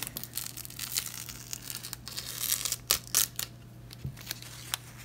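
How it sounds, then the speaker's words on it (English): Adhesive tape ripping as it is peeled off a dried acrylic paint skin, close and intermittent, with a few sharp tearing bursts toward the end over faint crinkling. "My tape is ripping."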